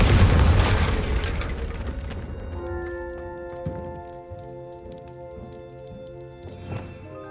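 A Confringo blasting spell goes off in the Hogwarts Legacy video game: a loud, deep boom opens and slowly fades into a low rumble, followed by a lighter tonal ringing and faint clatter.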